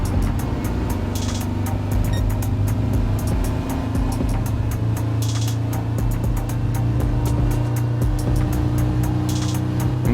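A VW Samba bus driving at Le Mans in Gran Turismo Sport, a steady, rough engine drone with periodic clicking ticks over it, continuous and loud.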